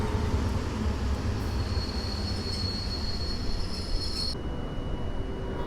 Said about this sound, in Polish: Pociąg z Warszawy Wschodniej do Grodziska Mazowieckiego.